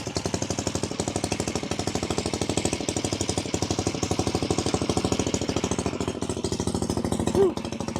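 A homemade two-wheel-drive minibike engine runs with a loud, rapid, steady chugging close by, its even pulses continuing throughout with a small rev near the end.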